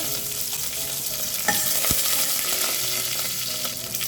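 Mustard seeds and curry leaves sizzle in hot oil with asafoetida, a dense continuous crackle and spatter close by, broken by a couple of sharp pops and a clink of stirring, with no talking.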